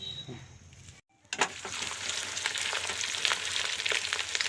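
Fish and whole fish roe fry in hot oil, a close, busy sizzle with popping crackles that starts after a short quiet gap and keeps going steadily.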